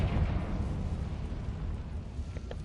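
Confringo spell explosion in the video game Hogwarts Legacy, a deep roaring blast that rumbles and slowly fades, loud and without speech.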